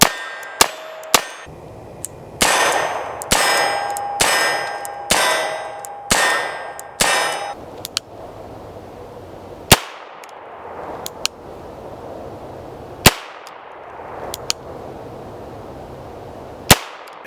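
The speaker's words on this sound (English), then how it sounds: "here I'm going to show you a little bit of shooting, and just notice how the cylinder moves forward up on the barrel when firing" A Nagant M1895 revolver fired outdoors: a series of sharp, loud single cracks, several in fairly quick succession and then more spaced apart, each followed by a ringing metallic echo, with no talk between them.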